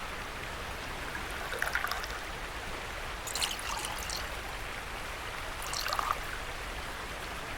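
Water trickling and pouring into a curing container filled with water and salt in The Last Plague: Blight, a soft continuous stream with faint splashy bursts rising and falling.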